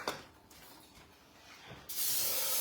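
Cooking spray misted onto a pan while preparing chicken wings: a short burst of steady hiss starts partway through and continues loud and even to the end, with faint earlier rustles before it.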